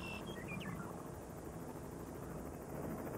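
A helicopter works with wranglers to round up nearly 1,500 bison of the Crow herd in southern Montana; its rotor drone is a faint, steady, distant rumble with wind noise.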